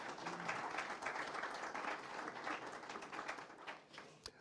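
Applause from a meeting audience, a dense, even patter of many hands that stays steady and moderately near before thinning at the end.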